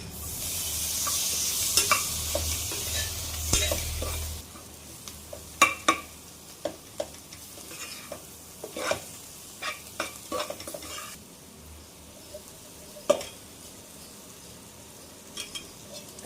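Bitter gourd frying in oil with tomatoes, curry masala and asafoetida hisses loudly at first, then settles into a lower sizzle broken by repeated sharp scrapes and clinks of a spoon against the pan.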